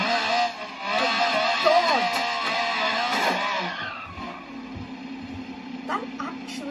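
A three-wheeled car fitted with a nitrous oxide mod in BeamNG.drive, its engine roaring loud and close with rising and falling revs, then settling into a lower steady drone, with a voice talking over it.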